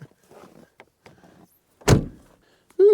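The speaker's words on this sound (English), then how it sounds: "The door was almost frozen." A Jeep door nearly frozen shut gets wrenched open in the cold, with faint fumbling, then one loud thunking crack in the middle. A sharp, wavering squeal follows right at the end.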